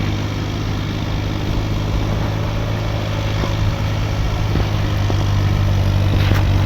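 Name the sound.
tractor engine running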